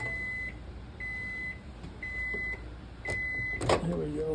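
A microwave oven hums quietly while it runs, and four steady, evenly spaced high beeps sound over it. A faint clunk and a rustle follow at the end.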